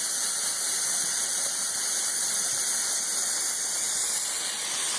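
Bathroom sink tap turned on full blast during an overflow test on a clogged drain, giving a steady, loud rushing hiss of water that stays constant throughout with no talking.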